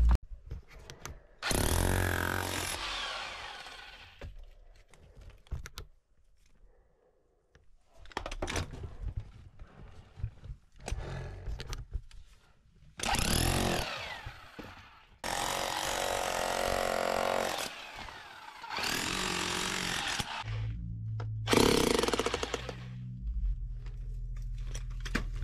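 A jackpick breaks concrete inside an opal mine in Coober Pedy, firing in several loud, harsh bursts of hammering separated by quiet pauses, close and echoing in the confined space.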